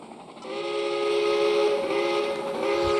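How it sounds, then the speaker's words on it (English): A steam train whistle in a railroad video game blows one long, sustained chord-like tone, loud and close, swelling after a brief start and holding steady. "Here, I can actually control the whistle."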